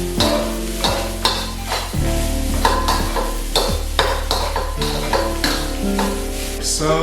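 Rice stir-fries in a hot pan, with a loud steady sizzle broken by repeated scraping and tossing strokes of a spatula, no voices.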